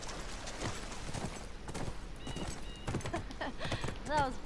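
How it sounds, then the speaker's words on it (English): Horse hooves clip-clop in a galloping rhythm in The Last of Us, with whinnies and a brief chime-like game sound, while someone talks over the hoofbeats. "Right, back on the horse."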